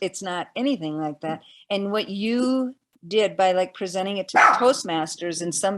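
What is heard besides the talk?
dogs barking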